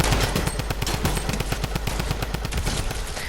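Drum gun firing in the video game Fortnite, a loud sustained burst of rapid automatic shots in an even, fast rhythm throughout.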